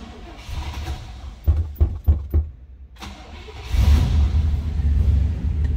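Cold start of a 1964 Oldsmobile Jetstar 88 Holiday Coupe: a few quick cranking bursts, a brief pause, then the engine catches and settles into a loud, rough, steady idle rumble close by.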